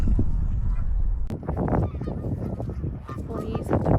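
Geese honk near marshland in rainy UK weather, a flurry of loud nasal calls from several birds close by, overlapping and irregular, with a sharp knock partway through.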